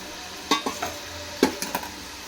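Chana dal tipped from a bowl into hot oil: a few sharp, brief clatters and splashes arrive in two small clusters over a low, steady sizzle, close by.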